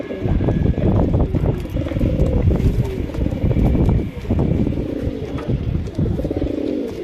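Pigeons cooing loudly and close, a dense run of throaty, rolling coos that repeats steadily with only a brief pause partway through.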